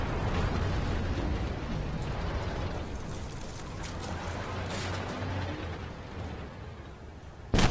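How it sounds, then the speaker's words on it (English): A missile strike in the tank game Armored Warfare, fired from a Begleitpanzer 57, sounds as a sustained rumbling roar of explosion and battle noise, loud and continuous, with a sharp burst at the very end. "Here I switched over my missile. Missile out."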